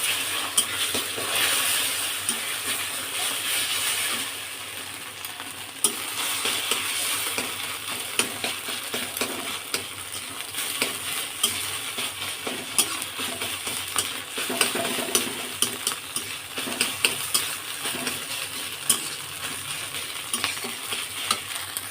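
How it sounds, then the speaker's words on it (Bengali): Steady sizzling of chopped egg frying in hot oil continues throughout, with occasional sharp clicks and scrapes of stirring in a pan. "ডিমটা ভাজা করে নেবো"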